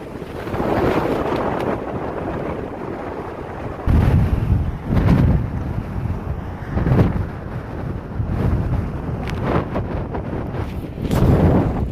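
Strong coastal wind at the Texas City Dike roars and buffets the microphone in gusty surges, with louder thumping blasts every few seconds and no voices.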